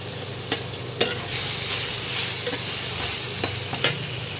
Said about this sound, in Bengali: টমেটোটা একটু ভাজা ভাজা করতে হবে।